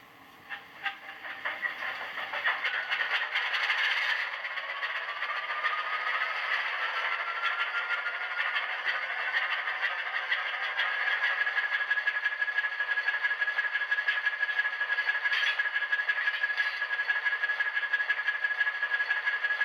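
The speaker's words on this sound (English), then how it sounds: "Let's go ahead and apply track power so you can hear the locomotive's startup sequence." Atlas RS-1 HO scale model locomotive fitted with an ESU LokSound decoder running its startup sequence: a sound-effect engine spins up from quiet, then settles into a steady diesel rumble with a rising whine, close and continuous.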